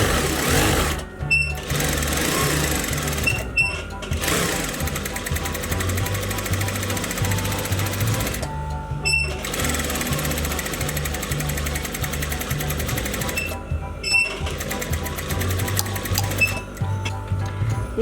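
A sewing machine stitches seam lines on a pocket, running in long rapid mechanical bursts separated by brief pauses, close and steady, with someone speaking quietly over it.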